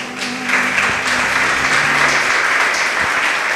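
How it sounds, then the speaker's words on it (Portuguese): A church congregation applauds after an evening service, a broad, continuous wash of many hands clapping at close range, steady throughout with a low hum underneath. "Palmas para o Senhor"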